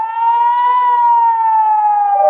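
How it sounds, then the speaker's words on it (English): An air raid warning siren in Israel, a loud, steady sustained tone holding one pitch with a slight rise and fall, heard alone without voices. "We can hear the alarms over here."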